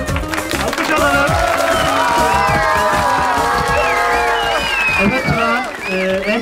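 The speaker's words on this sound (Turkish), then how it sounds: "Alkış alalım." Loud, sustained applause and cheering fill a theatre at a children's singing talent show, with crowd voices and shouts mixed in throughout.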